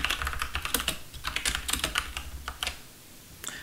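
Rapid keystrokes on a computer keyboard while entering a word move in the Macondo Scrabble program, a close, steady run of sharp clicks with brief pauses and no voices.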